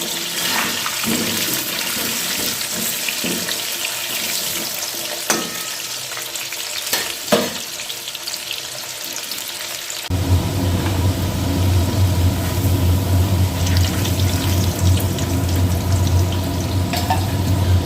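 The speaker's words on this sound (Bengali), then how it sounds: "আমি বিরিয়ানির আলু ভালো করে ভেজে নিই" Potatoes coated in turmeric and salt frying in hot oil for biryani, a steady loud sizzle that swells as they go in, with a few clinks and stirring knocks early on and no talk.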